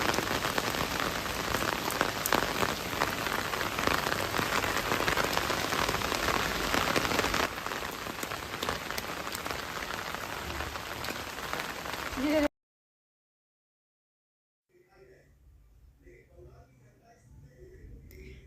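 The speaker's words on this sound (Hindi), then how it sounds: "सब जगह बारिश ही बारिश।" Heavy rain pours steadily onto hard surfaces, a dense loud hiss with spattering drops, then cuts abruptly to near silence before quieter sounds return.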